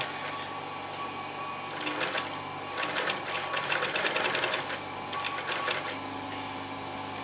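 A sewing machine stitching and pulling fabric along a thong pattern, running in a steady whirring rhythm with rapid clattering bursts, close up, with faint talk in the background.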